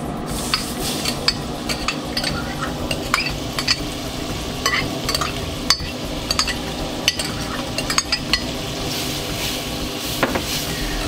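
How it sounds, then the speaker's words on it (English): Chopped onions hit hot spiced oil and fry with a steady, close sizzle, punctuated by repeated stirring scrapes and light clinks of a utensil against the pan. "We're gonna add the onions that we chopped earlier."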